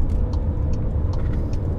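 A VW T-Roc Cabrio 1.5 TSI convertible SUV drives briskly through a curve, giving a steady, loud rumble of engine and road noise from inside the car, with faint rhythmic ticks.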